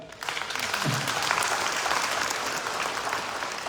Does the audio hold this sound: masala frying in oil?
no